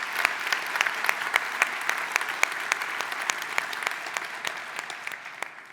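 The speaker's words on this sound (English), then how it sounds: "Huge round of applause for all our sponsors" Sustained applause from a large conference audience at a keynote event honoring sponsors, dense, steady clapping with sharp individual claps standing out throughout.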